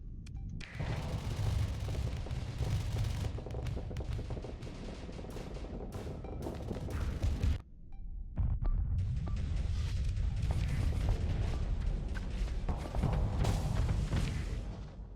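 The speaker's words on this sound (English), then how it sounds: "That's the sound of Kemi overloading." Video game battle in which the character Kemi overloads, bringing sustained heavy booming and gunfire-like blasts with mechanical clatter, loud and continuous, with a brief drop in the middle before the barrage resumes.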